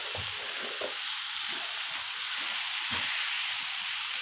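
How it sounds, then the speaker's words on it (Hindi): Ginger and garlic sauté in a hot pan with a steady, close, bright sizzle and hiss, broken by a few soft stirring scrapes, with no talking. "इधर से हमारा जिंजर गार्लिक जो है ना वो सौते हो रहा है"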